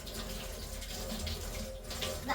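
Hands being washed with soap under a running tap, a steady close splash and trickle of water with no talk.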